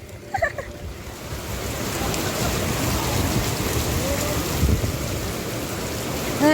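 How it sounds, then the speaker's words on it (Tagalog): Heavy typhoon rain pours down steadily in a dense, continuous roar with a few brief sharper sounds at the start. "Kaso lang malakas daw yung ulan."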